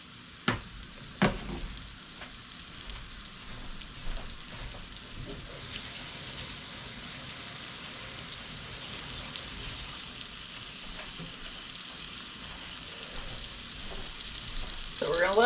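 Breaded pork loin chops frying in hot oil in a pan, a steady close sizzle and crackle that swells louder partway through, with a few sharp clinks at the start.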